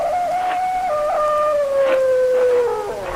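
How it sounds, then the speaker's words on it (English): A dog's cry carried across a lake at nightfall, used as an old-time radio drama effect: one long, wavering howl that slowly falls in pitch, fairly close and clear over a quiet background. "From somewhere across the lake, I heard the cry of a dog"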